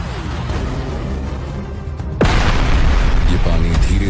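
A loud, deep boom of a meteorite impact bursts in suddenly about halfway through, following a steady rumbling background, then a sustained roar continues to the end.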